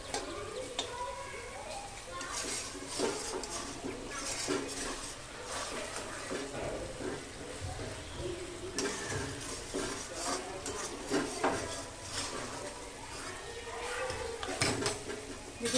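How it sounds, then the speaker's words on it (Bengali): Chicken cooking without oil in a covered pot, stirred with a utensil: continuous scraping and clinking of metal against the pot over a low sizzle, close and fairly loud, with occasional lid knocks. "কিন্তু 5 মিনিট অন্তর অন্তর ঢাকা খুলছি আর নাড়ছি।"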